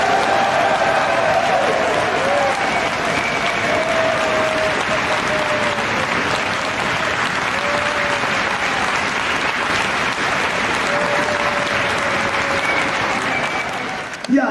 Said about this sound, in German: Wir begrüßen Sie jetzt einen Ihren, euren Gastgeber mit einem riesen Applaus.